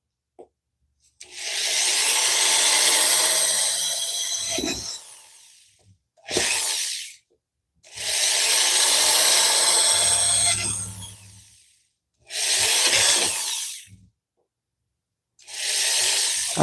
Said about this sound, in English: So that sound is me drilling.